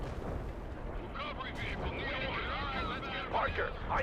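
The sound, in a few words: artillery barrage in the video game World in Conflict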